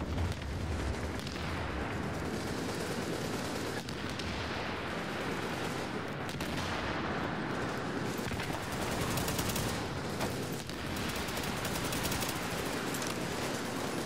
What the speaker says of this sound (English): Shooting this guy's backpack and it isn't doing anything.